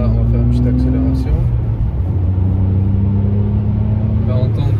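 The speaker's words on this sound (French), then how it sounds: "Là on va faire une petite accélération." BMW E60 car accelerating, heard from inside the cabin as a loud steady engine drone with a gear change, with someone talking over it.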